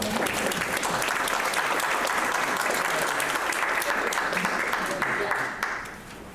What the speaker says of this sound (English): Let's just have another round of applause for Miss Garza.